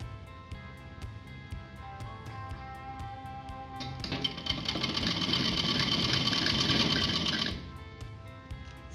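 Usha sewing machine stitching the leg seam of a printed palazzo, a steady rapid mechanical rattle that swells into a louder, denser whir for a few seconds before easing back, close and without talk.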